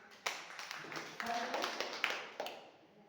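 Scattered applause and a few claps from an audience at a business seminar, faint and sparse, with quiet murmuring in the room.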